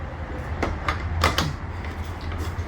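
Latch and door of a 7 ft by 7 ft metal storage shed being locked: a few sharp metallic clacks and rattles close by, over a low steady hum with no talking.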